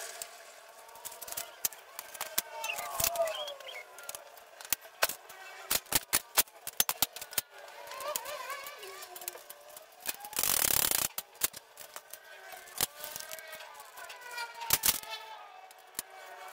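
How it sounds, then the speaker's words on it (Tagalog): Sped-up playback of someone building a Lego rack, with rapid clicks, clatter and chirpy squeaks in a busy stream and one loud whooshing burst near the middle. "Ganun yung tunog ng fast forward."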